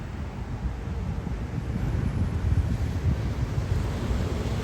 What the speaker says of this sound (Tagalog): Tapos dahil papa high tide, andyan pumasok na sa rock garden yung dagat.